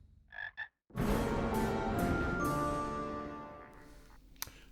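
Toads croak in a dense, loud chorus of overlapping throaty calls that swells suddenly after two brief soft croaks, then slowly thins out, with no talking over it.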